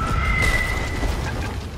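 A gunpowder barrel explodes aboard a ship in the video game Sea of Thieves, leaving a loud, deep, sustained rumble that fills the whole moment without any voices.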